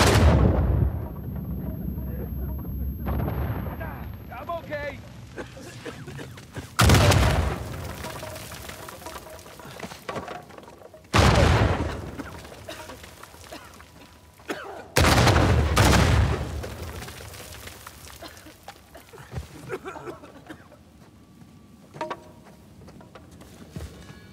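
Heavy booming explosions in Uncharted 4: A Thief's End, several loud blasts spaced a few seconds apart with rumbling debris and gunfire-like crackle between, someone occasionally talking underneath.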